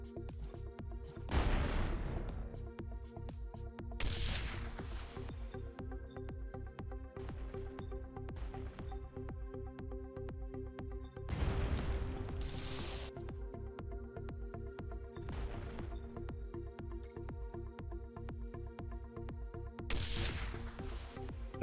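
Mecha shoulder cannons firing in the video game M.A.S.S. Builder, several loud booming blasts at irregular intervals over a steady mechanical hum and rapid clicking game sounds, with no talk.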